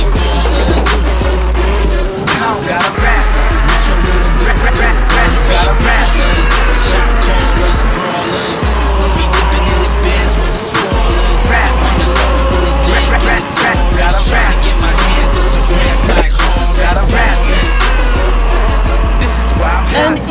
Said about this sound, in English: the latest entrance to the class of 16-inch suspension-equipped performance electric unicycle